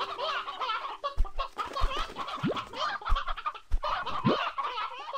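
A rooster in the video game Slime Rancher 2 clucks repeatedly, with several short fowl calls and a couple of rising squawks, close and clear over the game's background ambience.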